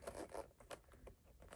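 Short, quiet zipper pulls on a Tory Burch handbag rasp in quick bursts, with faint scraping and rustling between them.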